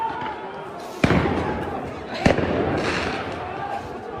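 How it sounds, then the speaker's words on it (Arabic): Stun and gas grenades bursting inside Al-Aqsa Mosque during violent clashes: two sharp, loud blasts about a second apart, set against a constant rumble of crowd noise and shouting. "العشرات من قنابل الصوت والغاز في المسجد الأقصى"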